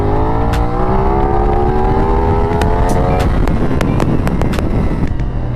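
A CFmoto 450NK motorcycle is opened to full throttle, its engine note climbing steadily through the revs before shifting, loud and close with heavy wind buffeting, no voices.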